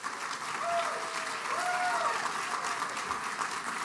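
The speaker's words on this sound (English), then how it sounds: "please join me in welcoming Brandon Marshall" Steady applause from a conference audience fills the space, a dense even clatter of many hands, moderately distant, with a few faint whistles rising over it.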